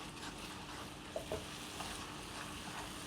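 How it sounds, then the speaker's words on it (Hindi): Masala spices sizzle and are stirred in hot oil in a pan for a gravy, a soft, steady frying hiss with a few faint clinks of a spoon against the pan. "इसको मसाले को हम भून लेंगे"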